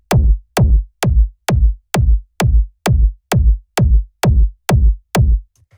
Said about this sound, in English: you can make your kick punch a little bit more